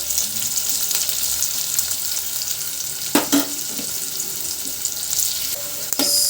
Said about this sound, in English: our onion slices are getting golden or brown.